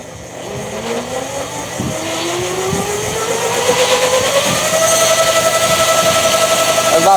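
A 3000W 72V brushless electric motor on a Cycle QMX winds up from low to high speed, its rising whine climbing steadily to around 5,400 RPM and then holding a loud, steady tone, with no talking.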